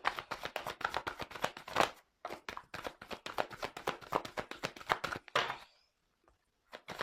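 Tarot cards shuffled by hand in rapid riffling bursts, a brief pause near two seconds, then more dense shuffling that stops abruptly, leaving near silence at the end.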